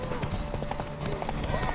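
Rhythmic hoof clip-clops from a horse in The Witcher 3 run steadily under an excited voice and busy background noise.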